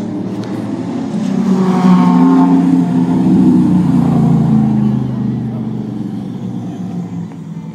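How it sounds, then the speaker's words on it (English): Holden VY SS Commodore rally car driving on a tarmac rally stage, engine noise swelling as it nears and fading away, heard under a commentator talking. "The VYSS Commodore of Cameron Pewsey and Kevin Fox."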